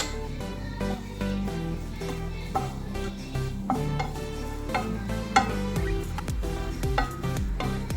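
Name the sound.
stirring goat head thoran in a pan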